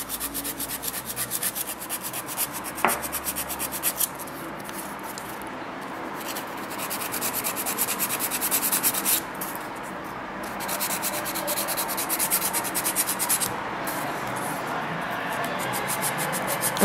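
A straight nail file filing a gel nail with steady back-and-forth rubbing strokes, close and continuous, with brief pauses between passes.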